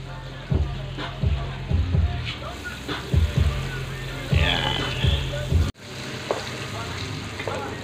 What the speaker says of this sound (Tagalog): Mainit na po ang ating kawali. Lagyan natin ang butter.